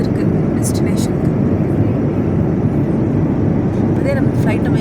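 Steady broadband roar of an airliner cabin in flight on a long route to Abu Dhabi, a constant loud engine and air rush with faint talk over it.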